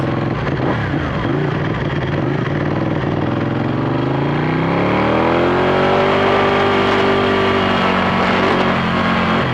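A Ducati 1199 Panigale motorcycle engine runs loud and close, idling roughly at first and then revving up into a rising, sustained engine note that holds steady throughout.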